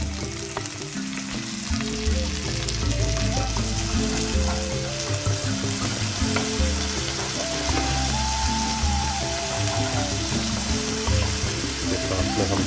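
Ginger garlic paste frying with golden brown onions in a pan, giving a steady, dense sizzle that runs throughout at close range with no voices.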